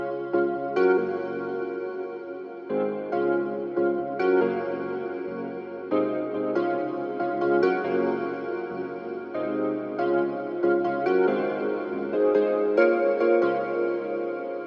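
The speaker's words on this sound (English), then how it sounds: "I cut a lot of stuff here below, about 400, and then I cut off a lot of top end" A washy guitar with the lows below about 400 Hz and the top end cut away leaves a thinner, mid-focused tone as chords repeat at a steady pace, moderately loud and alone.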